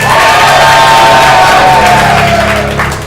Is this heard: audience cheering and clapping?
yes